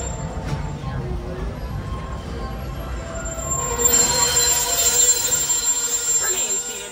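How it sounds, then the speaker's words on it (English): Walt Disney World Railroad train at Magic Kingdom rolling into the station, a steady rumble with a high metallic squeal rising as it slows, under a continuous hum. "As we arrive into the station, please remain fully seated until the train comes to a full and complete stop."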